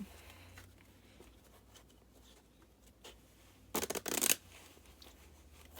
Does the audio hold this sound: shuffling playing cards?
yes